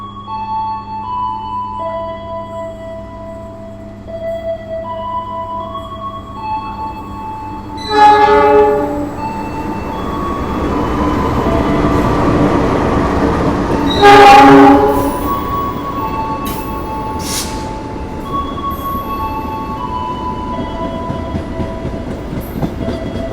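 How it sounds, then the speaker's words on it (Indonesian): The Argo Lawu passenger train roars straight through a station on track 8, its horn blaring twice over a steady rumble and rattle of cars, loud and close. "Yang akan melintas langsung di jalur 8 adalah kereta api Argo Lawu tambahan"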